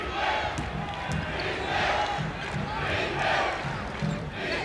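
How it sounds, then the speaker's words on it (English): A basketball arena crowd at a 1978 Spurs home game against Washington rises in rhythmic shouts urging the Spurs to play defense, loud and swelling, with a commentator talking over it and a ball bouncing faintly. "the crowd beginning to implore the Spurs to play some defense"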